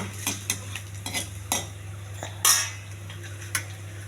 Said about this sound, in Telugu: ముల్లంగి వేగిపోయిందండి, తీసేయాలి.